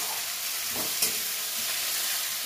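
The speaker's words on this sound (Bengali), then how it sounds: "টমেটোটা একটুখানি ভাজা মানে গলে যাওয়া অবধি একটু অপেক্ষা করি।" Chopped tomato fries in a pan with a continuous soft sizzle and hiss, close by, with a faint scrape of stirring partway through.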